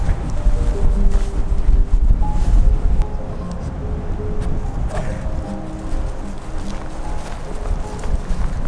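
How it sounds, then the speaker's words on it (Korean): Strong wind gusting outdoors at a campsite, a steady loud roar with heavy low rumble, strongest in the first few seconds and then settling into a continuous buffeting across the microphone. "아, 따 바람 많이 부네."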